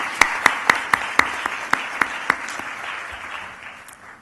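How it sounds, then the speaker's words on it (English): Conference audience at a South Asian philanthropy gathering applauding board members, a few prominent rhythmic claps up front over a broader wash of room applause that gradually fades away toward the end. "please rise and we can give you a round of applause"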